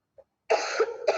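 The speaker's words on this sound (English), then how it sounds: "I have some coughing problem." A single close cough, preceded by a tiny throat sound, rough and breathy with a short second burst at the end.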